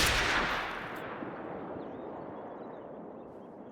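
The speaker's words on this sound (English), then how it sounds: "I gotta try to take at least one more shot at it" A hunting rifle fires once in theHunter: Call of the Wild, set in the New England mountains. The loud, sharp report opens the clip and is followed by a long, rumbling echo that slowly fades across the landscape.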